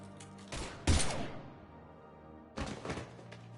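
Gunfire in the video game Mass Effect 3, a couple of heavy broadband shots or bursts: one sharp loud blast near the start, then a second volley later, with a reverberant tail between them.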